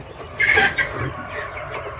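Young quail chicks in a brooder give a short burst of high chirps near the start, then quieter scattered peeps over low background noise.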